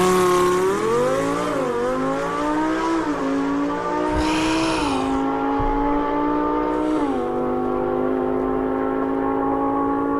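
A car accelerating hard through its gears on the Auto Club drag strip, the engine note climbing loud and near, dropping briefly at each upshift before rising again, several shifts in a row.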